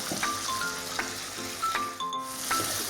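Coriander and fried onion sautéing in a pan, with a bright sizzle broken by repeated ringing clinks and scrapes of a utensil against the metal at an uneven rhythm. No voices are heard.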